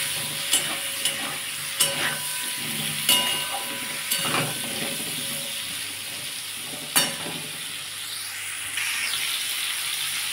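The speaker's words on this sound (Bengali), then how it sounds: "দিয়ে একটু আমটা ভেজে নেব।" Mango pieces with turmeric frying in a pan for a sour rohu roe dish, a steady sizzle broken by several sharp scraping stirs and clanks against the pan.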